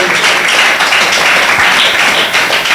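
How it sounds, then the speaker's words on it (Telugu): Applause from an audience at a church youth meeting, a dense steady roar of many hands clapping loudly throughout with no clear pauses. "ఇంకొంచెం బిగ్గరగా చప్పట్లు కొట్టి దేవుని నామాన్ని గణపరచ"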